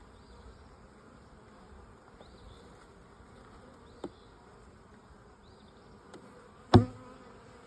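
Bees humming steadily around an open, established beehive during an inspection, a close continuous drone with a few sharp clicks and one loud knock near the end.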